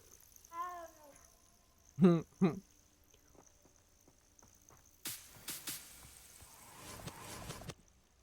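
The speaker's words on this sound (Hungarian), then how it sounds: "Megpetteljük a macskát." A cat in the video game Hogwarts Legacy meows several times in short, close, distinct calls, followed by a burst of louder rustling and crackling noise.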